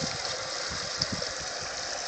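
A bilge pump circulates water up a hose and down through a gold sluice high banker, giving a steady, close rushing and splashing wash with a low churning murmur underneath.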